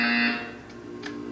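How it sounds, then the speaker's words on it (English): A loud electronic buzzer sounds in a Portal 2 test chamber, a harsh, steady tone lasting about a third of a second that then cuts off, followed by faint ambient hum and a couple of soft clicks. "You will hear a buzzer."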